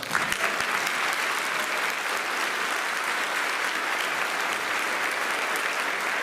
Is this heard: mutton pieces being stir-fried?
no